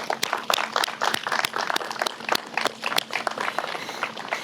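A crowd applauds at a provincial funding announcement, a dense patter of many hands clapping steadily without pause, fairly loud and close.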